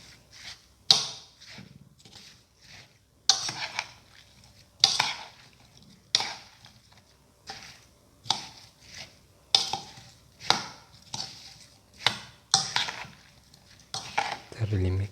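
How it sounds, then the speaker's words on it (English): Watermelon pieces are stirred with sugar in a bowl, giving repeated sharp clinks of a utensil against the dish in irregular bursts, close and clear, with pauses between strokes. "Thoroughly mix the watermelon and the sugar together."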